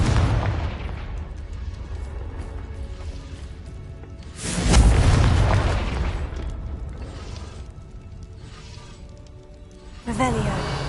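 A Confringo fire spell explodes in Hogwarts Legacy, a deep booming blast rising midway and rumbling off, with a second burst at the end over game ambience and a voice calling the incantation.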